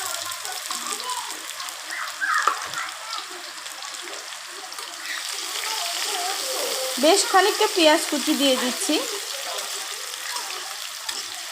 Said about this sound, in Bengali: তখন দিয়ে দিলাম আমি পেঁয়াজ কুচি